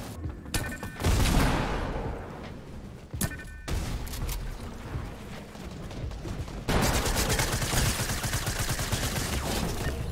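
Gunfire in the video game Fortnite during a Zone Wars match, dense rapid shots and sharp cracks that keep going, growing louder and more continuous toward the end.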